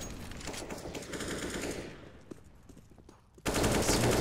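Gunfire in a Counter-Strike match on the Mirage map during an ESL Summer Championship 2017 game, with rapid automatic bursts and a loud crackling volley at the end, dense and close with no talk over it.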